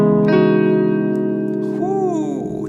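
Electric guitar sounding the opening chord of a riff with an added harmony note, one sustained ringing chord with effects that fades slowly, a brief bending tone near the end.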